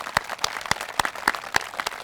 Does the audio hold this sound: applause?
yes